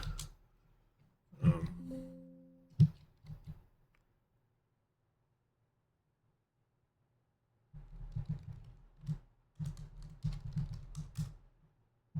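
Soft bursts of typing on a computer keyboard, quick clustered key taps near the mic separated by a long quiet pause.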